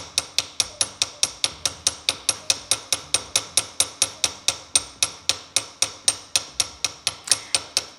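A small hammer spreads a metal rivet on a piece of handmade jewelry, striking in a steady, rapid series of sharp, light, close taps, about four a second, with no talk.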